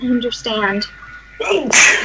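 A single sharp sneeze bursts out near the end, loud and close, right after a person speaks a short phrase in a quiet indoor setting.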